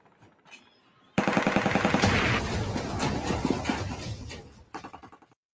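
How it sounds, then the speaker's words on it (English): A sustained loud burst of machine gun fire with tracer rounds striking dirt starts abruptly and roars continuously for several seconds, then tapers into a few separate trailing shots and goes quiet. "look at them tracer rounds burning the dirt"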